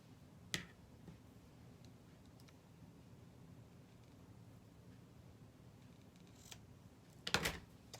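Paper being cut at an angle during a stamping craft session, a few sharp snipping clicks, one early and a cluster near the end, over a quiet background.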